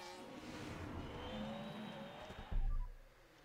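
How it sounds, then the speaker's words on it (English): Race cars in the video game F1 Manager 22 roar past and crash, with engine whine and tire noise followed by a sudden heavy thump of impact near the end that quickly dies away. "Sounds like a few cars have crashed."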